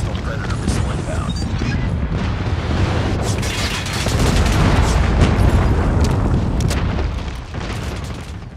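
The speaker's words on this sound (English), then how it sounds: "Enemy airstrike incoming. Be careful. Be advised. Hostile Predator missile inbound." Airstrike explosions in the game Call of Duty Mobile roll out as dense, continuous booms and blasts. Gunfire crackles through them, and in-game voice callouts speak over the din.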